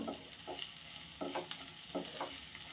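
Ground turmeric, garam masala and coriander powder sautéed in a pan for an egg dish, with a soft steady sizzle and a few short scraping stir strokes, close and without voices.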